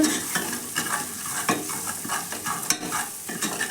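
Turmeric powder stirred into hot oil in a pan for Punjabi kadhi pakora, with a steady sizzle under repeated scraping spoon strokes against the metal, close and continuous.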